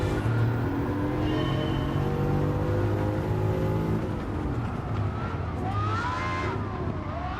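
Bugatti Veyron engine in a racing video game, revving loud and steady with rising and falling pitch, close and continuous, no talk over it.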